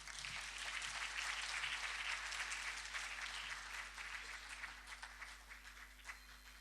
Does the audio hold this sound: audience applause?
yes